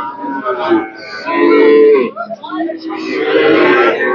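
Holstein Friesian calves at a village cattle market low and moo in several drawn-out, close calls, with market chatter underneath.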